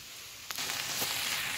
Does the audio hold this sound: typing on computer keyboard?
no